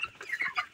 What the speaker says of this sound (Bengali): এখন তুই এইখান থেকে 5টা মুরগি তুল